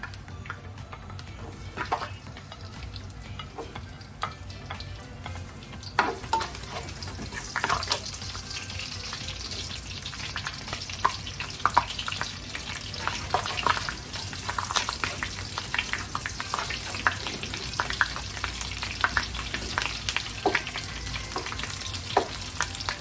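Garlic fries in a pan with a continuous crackling sizzle, punctuated by sharper pops and stirring scrapes that grow busier over time, with no talking.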